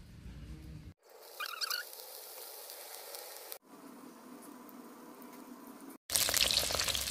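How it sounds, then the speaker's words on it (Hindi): Cabbage kofta balls frying in hot oil, a steady sizzling crackle that cuts out briefly and returns, ending in a louder burst of bubbling as more balls go in; no talking. "तो देखिए तेल लगभग गर्म हो गया है, तो इसमें हम ये पत्ता गोभी के जो बॉल्स बना रहे हैं ये इसमें हम डालेंगे"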